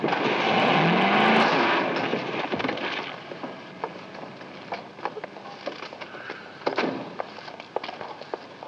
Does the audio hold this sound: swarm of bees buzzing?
no